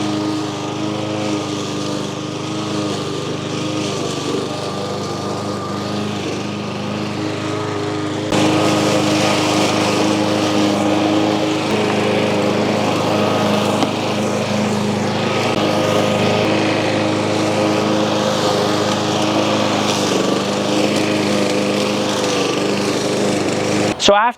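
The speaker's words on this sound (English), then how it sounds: "after running the lawnmower for an hour and looking that it runs great" A lawn mower engine runs steadily and loud at close range after a rebuild, a continuous droning buzz that steps up slightly in intensity partway through and holds to the end.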